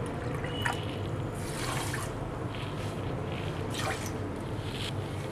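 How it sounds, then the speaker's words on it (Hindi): Water pours and trickles into a bowl of sugar while making Indian sweets, a soft continuous splashing with a few brief louder gushes, close by and without talk. "1 बाउल हम चीनी ले लिए हैं और 1/2 बाउल हम पानी डाल देंगे।"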